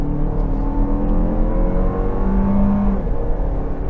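A 2024 Toyota Grand Highlander with a turbo engine and 8-speed automatic accelerates uphill, with a steady engine drone that rises and then dips through a gear shift, heard from inside the cabin.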